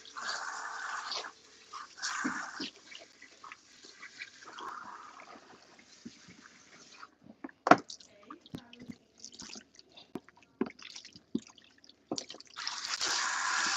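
Water runs from a salon sink tap while relaxer is rinsed out of hair, a soft hiss that comes and goes in bursts with drips and small clatters between, fairly faint and close.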